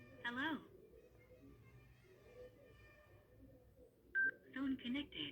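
A Parani Bluetooth headset fitted to a motorcycle helmet powers on with short electronic beep tones, with someone talking quietly between the beeps.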